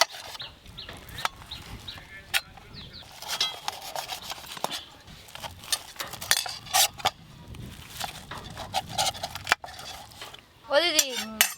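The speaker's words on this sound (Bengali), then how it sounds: "এবার ছুরি দিয়ে পিস পিস করে কেটে নেব।" A knife cuts fried egg fritters into pieces on a plate or board, giving a run of scraping and tapping clinks of blade on dish, uneven and close, with a few brief background noises.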